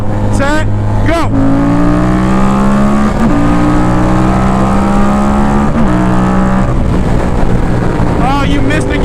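Engine of a 1998 Honda Goldwing motorcycle pulls hard through the gears, pitch rising in repeated sweeps with brief breaks at each shift and one missed gear, loud and close over wind noise.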